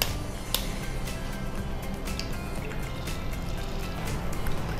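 Water heating in a pot toward a boil for Korean-style noodles, a steady low bubbling rumble with scattered faint ticks and drips, continuous and close.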